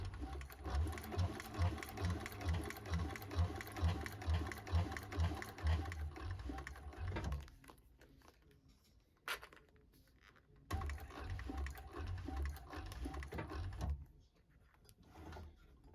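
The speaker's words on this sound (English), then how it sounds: "keep pressure on that and sew all the way around" A sewing machine stitches around a Martie tote bag, running in a steady rhythmic burst for about seven seconds, pausing, then starting again in a second run before stopping.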